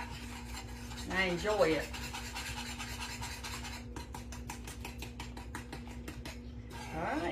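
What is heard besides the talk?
stirring bread pudding topping of sugar and butter in pan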